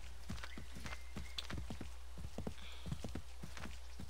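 Hooves of a horse in Assassin's Creed III clop in a quick, steady rhythm of sharp, close taps under light drizzle, with a faint whistle-like tone briefly in the background and no speech.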